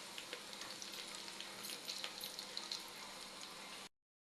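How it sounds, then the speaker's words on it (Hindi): Onions fry in a pan with turmeric stirred in, giving a quiet, crackling sizzle with scattered pops and scraping taps, then cutting off abruptly. "ये भुन गई है प्याज, उसमें डाल दूँगी हल्दी"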